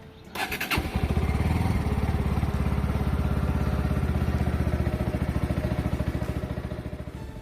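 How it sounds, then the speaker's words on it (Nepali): A motorcycle with a past starting problem cold-starting: a brief crank, then the engine catches and settles into a loud, steady, close idle with a rhythmic throb throughout. "अब म मेरो बाइकलाई कोल्ड स्टार्ट गर्दैछु"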